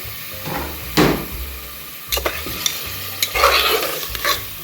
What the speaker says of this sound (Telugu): ఈ విధంగా కీమా ఈ టైంలో వేస్తాను చూడండి దీన్ని ఫ్రై చేద్దాం